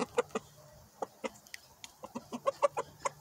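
A chicken clucks in a run of short, sharp calls, some spaced apart and then quicker bursts toward the end, close and clear over a quiet background.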